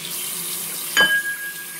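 Water runs steadily from a kitchen tap into a sink in a constant hissing stream, with a brief clink of a mug or bowl bumping partway through.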